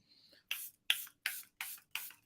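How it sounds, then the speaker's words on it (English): A makeup setting spray bottle is pumped five times in a row, each spritz a short, soft hiss with brief pauses between them, quiet and close. "I started with the setting spray and I'm going to end with the setting spray"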